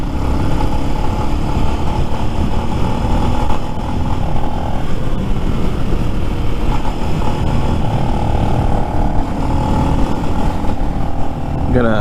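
A loud Lifan X-Pect motorcycle engine sputters close by, cutting on and off, its tone wavering and stumbling unevenly rather than holding a smooth idle, with some talk mixed in.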